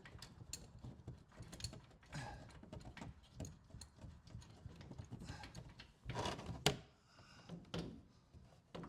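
A ratchet tightens the bolt and flag nut on the upper control arm of a 2021 Ram 1500 pickup, giving steady rapid clicking with metallic knocks and clanks in a garage.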